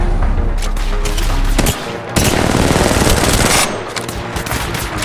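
Rapid automatic gunfire from the battle royale shooter Apex Legends, loud and close, sustained bursts with a short pause midway before the firing resumes heavily and then eases.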